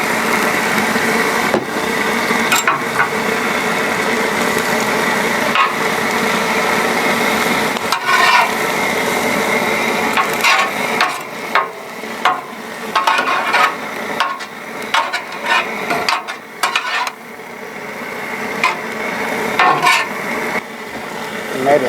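Shrimp and vegetables with snow peas and water chestnuts sizzling in oil and butter on a Blackstone griddle, a steady close frying hiss with scattered scrapes and stirring clatter, a voice briefly audible.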